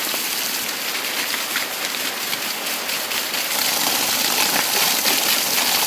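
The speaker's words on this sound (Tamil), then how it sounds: "மழை வருது." Steady heavy rain pours down in a village, a dense continuous hiss with drops pattering on surfaces nearby, no voices.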